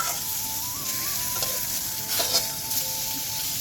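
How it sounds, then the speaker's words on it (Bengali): Eggplant slices sizzle in hot oil in a home kitchen, a steady soft frying hiss with occasional faint stirring or utensil clinks, no talking. "এই জন্য বেগুন ভাজছি"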